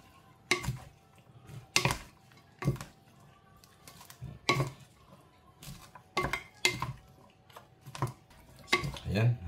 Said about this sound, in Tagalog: Kaya haluin nyo lang hanggang sa mix nyo